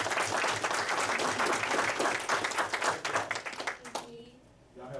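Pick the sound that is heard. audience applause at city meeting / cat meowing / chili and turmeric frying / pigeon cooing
audience applause at city meeting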